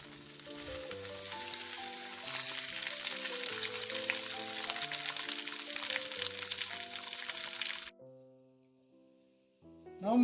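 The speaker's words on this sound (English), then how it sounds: "I'm going to fry the fish on a medium flame." Fish frying in a pan over a medium flame gives a steady, close, dense sizzle for about eight seconds over soft melodic background music, then the sizzle cuts out and only quieter tones remain.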